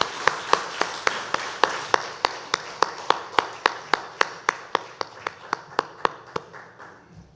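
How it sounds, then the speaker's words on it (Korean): Church congregation clapping in unison at a Sunday worship service, a steady run of about twenty sharp, evenly spaced claps that gradually soften toward the end. "하나님께 영광의 박수 올려드립니다."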